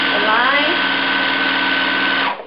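A sewing machine stitches quilt border units chain-pieced one after another, giving a steady, close, fast whirring hum that runs evenly and then stops abruptly near the end, with a voice talking over the first part.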